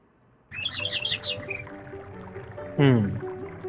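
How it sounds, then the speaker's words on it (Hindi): Synthesized game-engine bird calls chirp at uneven intervals: a quick run of four bright tweets, then a sweeping descending call a moment later, over a faint bubbling background. "अलग अलग चिड़िया की आवाज आनी चाहिए अलग अलग इंटरवल पे"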